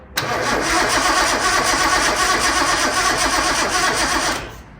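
A barn-find Datsun 240Z starter cranks steadily and loudly for about four seconds on a used battery, giving a close, continuous churning drone that fades out at the end.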